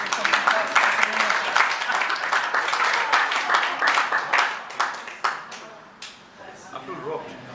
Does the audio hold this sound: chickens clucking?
no